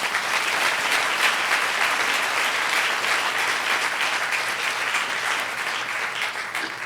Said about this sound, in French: Est-ce qu'on peut acclamer de telles personnes?